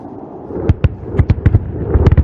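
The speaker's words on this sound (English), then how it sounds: "Wait for the massive explosions." A rapid series of sharp, booming bomb blasts at the Pokhran range in Rajasthan during an air force firepower demonstration, several in quick succession with short gaps, loud and close-sounding over a low rumble.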